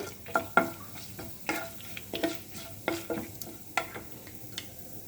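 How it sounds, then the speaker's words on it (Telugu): Urad dal, cumin, chana dal and dried red chillies roast in a little oil in a pan, a soft sizzle broken by repeated spoon scrapes and taps at an irregular pace, with no voices. "నేను మినపప్పు జీలకర్ర శనగపప్పు ఎండుమిర్చి వేసి కొద్దిగా నూనె వేసుకొని ఇలా వేయించుకోవాలండి"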